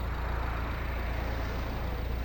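A 2013 Volvo V60 with a 1.6 D2 eight-valve diesel engine and six-speed manual idles steadily, a low, even rumble with a faint rhythmic clatter, close and alone.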